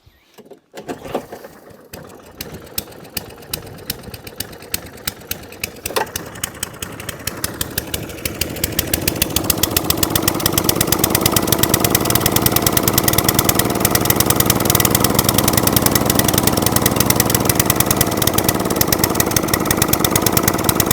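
An Atco Balmoral cylinder lawnmower's small petrol engine sputters unevenly at first, then settles into a loud, steady running drone close by, with no one speaking.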